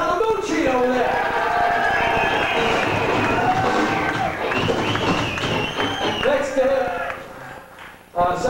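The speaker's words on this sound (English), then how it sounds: "On the lead guitar, a round of applause to Tony Palamucci over there." A live nightclub crowd roars and cheers for lead guitarist Tony Palamucci at a rock show, a loud, dense, continuous wash of voices and whoops with some clapping, swelling throughout and dipping briefly near the end.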